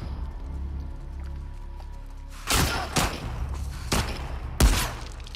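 Enemy gunfire in The Last of Us Part II, with several loud, sharp shots cracking out at irregular intervals over quieter game ambience.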